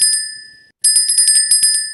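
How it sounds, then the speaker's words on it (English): A trading platform's alert bell rings as a rapid run of bright metallic dings, clear and close. It pauses briefly, then resumes in a quicker, denser burst. "GJ is ringing the bell now"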